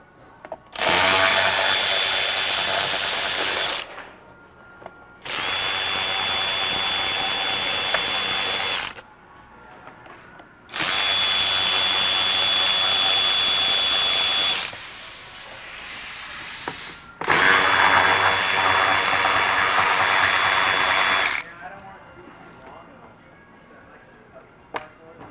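A power tool backs out Torx T40 screws on a Polaris snowmobile, four loud sustained whirring bursts of a few seconds each, separated by brief pauses with quieter handling noise between them.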